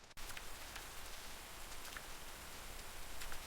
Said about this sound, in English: It's so peaceful with the rain.